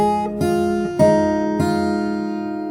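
Fingerstyle acoustic guitar plays a short phrase of a song: three plucked notes and chords ring out clearly at an even pace, each left to sustain and decay, with no voice.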